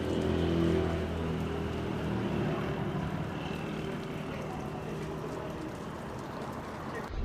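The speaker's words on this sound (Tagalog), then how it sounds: "Maulan yung panahon ngayon at malamig. Ayan, umuulan po." Rain falls in cold, wet weather as a steady, moderate hiss that continues evenly throughout, with a low background rumble underneath.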